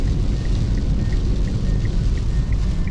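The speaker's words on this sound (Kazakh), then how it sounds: "Кәдімгі жаңбыр құйып тұр кәдімгі." Heavy rain pours steadily, a dense broad hiss over a low rumble, with faint regular beeps in the background.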